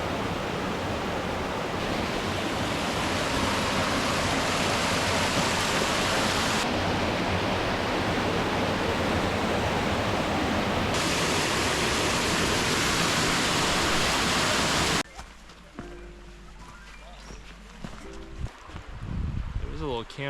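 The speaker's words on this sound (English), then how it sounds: "I can hear some monster rapids down there." Roaring rush of big river rapids in the Southern Appalachian mountains, a loud, steady broadband wash for about fifteen seconds before it cuts away to a much quieter stretch with small handling noises.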